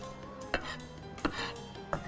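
A knife chops two garlic cloves on a board, giving three spaced, soft thuds against a quiet kitchen hum with faint ringing tones, no speech.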